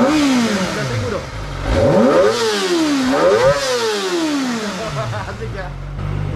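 A four-cylinder motorcycle engine revs close by, with repeated throttle blips rising and falling in pitch over a steady idle and a loud, continuous mechanical roar.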